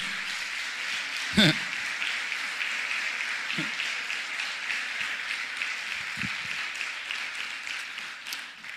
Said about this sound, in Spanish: Vamos, denle un aplauso al Rey de Gloria.